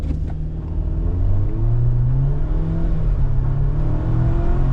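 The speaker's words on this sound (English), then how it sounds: "let's do a proper 0 to 60 run and then a brake test" A 2026 Jeep Wrangler Rubicon pulls hard in a 0 to 60 run, its engine climbing steadily in pitch and loudness as the revs build, with a deep rumble underneath and no talking.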